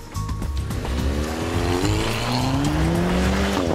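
A car driven at about 50 mph on tyres worn to 1 millimetre of tread brakes hard on a test track, a loud engine note falling in pitch as the tyres squeal continuously for several seconds.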